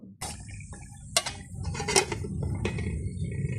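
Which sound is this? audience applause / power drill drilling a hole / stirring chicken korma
stirring chicken korma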